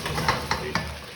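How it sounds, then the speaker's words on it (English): Rice sizzles steadily in a hot paella pan over a low hiss of frying. Three evenly spaced scraping strokes of a utensil sound against the pan as the rice is stirred. "agitate the rice a little bit more, just make sure it's not sticking."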